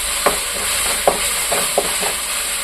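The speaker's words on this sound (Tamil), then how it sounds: "அது நல்லா ஃப்ரை ஆகட்டும்" Ginger garlic paste frying in a pan for chicken curry: a steady broadband sizzle with several sharp scraping stirs of a spoon at irregular intervals, close and fairly loud, with no talking.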